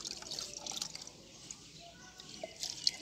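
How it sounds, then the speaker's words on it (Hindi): Water is poured into a glass during a children's lesson, making a faint, thin trickle with scattered drips heard up close at low volume. "भर दो इसको, पानी के साथ भरना है।"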